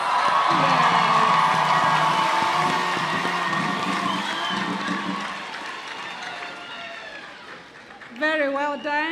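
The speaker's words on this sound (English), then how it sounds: "May I just invite all of us to give them a hand of applause?" A graduation ceremony crowd cheers, whoops and applauds in a big hall. The noise is loud and dense at first, then fades over several seconds before a fresh burst of shouting near the end.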